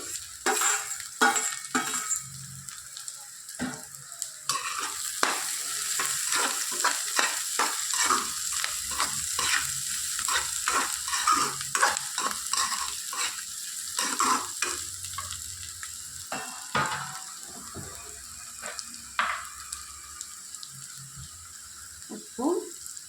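Bitter gourd frying in a pan sizzles with a constant bright hiss, while a spoon scrapes and stirs in quick irregular strokes, close-up, with a voice talking quietly at times.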